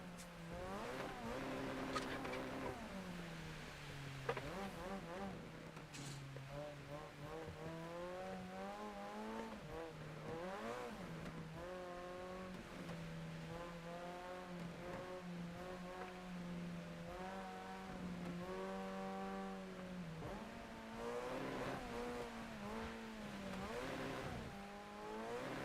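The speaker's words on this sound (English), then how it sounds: "There's a nice sounding exhaust." Car engine and exhaust in a JDM driving video game, revving and holding a steady drone with rising and falling pitch sweeps as the car accelerates and shifts, continuous and fairly quiet, with no talk.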